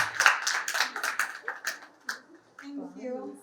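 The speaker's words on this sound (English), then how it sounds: "can we give them a big round of applause?" Brief scattered clapping from a school event audience, a few sharp bursts that fade within a couple of seconds before a voice begins speaking.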